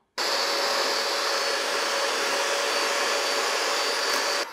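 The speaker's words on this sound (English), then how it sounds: "So first we're going to beat the egg yolks until they're light and" An electric mixer beats egg yolks for a keto cannoli cake, giving a steady, close, unbroken motor whir that starts abruptly and runs evenly to the end, with no talking.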